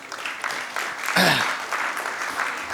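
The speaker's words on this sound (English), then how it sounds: "give him a big round of applause" An audience at a talk applauds, a short burst of clapping that swells and stays dense for a few seconds, with a voice briefly heard over it.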